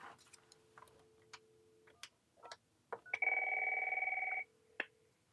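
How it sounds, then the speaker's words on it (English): An electronic desk telephone ringtone sounds once for about a second, loud and close, between scattered clicks and taps. "I think Chloe's got like a cooler ringtone"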